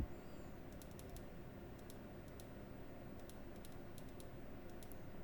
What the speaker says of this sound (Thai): ส่วนโหมด SOS เนี่ยผมไม่แน่ใจว่ากด 3 คลิกหรือเปล่านะลองดูนะหนึ่งสองสาม